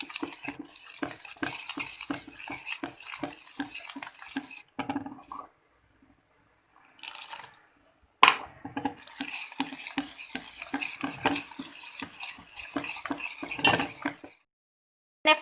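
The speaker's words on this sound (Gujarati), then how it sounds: "લોટના ગાંઠા ના રહેવા જોઈએ એટલું મિક્સ કરવાનું છે બરાબરથી" Gram flour batter for khaman being stirred in a bowl, with rapid rhythmic spoon scrapes and clinks against the sides, close and moderately loud, broken by a couple of short pauses.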